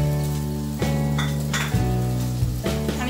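Sabudana khichdi made from soaked sago with potato and crushed peanuts sizzles in a pan. A spoon scrapes and stirs it about three times, giving brief clinks over a steady fry.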